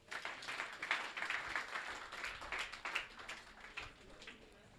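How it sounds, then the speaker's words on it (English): A classroom of students applauds a classmate, a steady patter of many hands clapping at moderate distance for several seconds, fairly soft overall. "Please clap for her."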